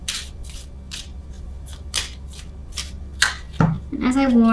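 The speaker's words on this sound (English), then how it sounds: "I'm shuffling extra slow" Tarot cards are shuffled slowly by hand in a series of crisp, separate riffling bursts, close and clear, and the last one is followed by a person starting to speak.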